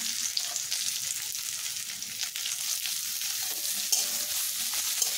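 Chilli chicken with chopped green chilli and spring onion being stir-fried in a pan, a continuous close sizzle with intermittent scraping and stirring strokes.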